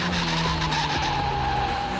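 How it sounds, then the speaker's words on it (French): A race car brakes hard until its wheels lock, and the tires skid with a loud, continuous squeal. The screech holds a steady, sustained pitch for about two seconds with no one talking. "les roues elles bloquent"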